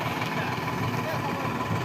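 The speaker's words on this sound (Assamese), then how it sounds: "এইবিলাক এতিয়া ট্ৰেক্টৰ মাৰে।" A tractor engine runs steadily in a farm field as ploughing begins, giving a continuous rough mid-level drone with no breaks throughout.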